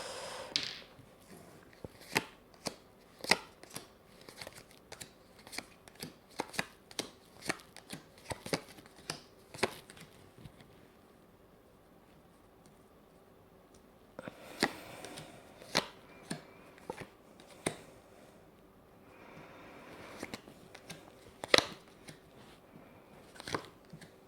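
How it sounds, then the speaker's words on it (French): Tarot cards being cut and laid out by hand, a run of crisp card snaps, slides and taps close up, with a quieter lull midway before more card placements resume. "Alors, je coupe et je vais disposer les cartes."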